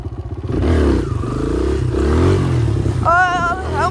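Dirt bike engine revving hard as the rider pulls a wheelie, a loud, close, sustained buzzing drone with wavering pitch and a rising whine near the end.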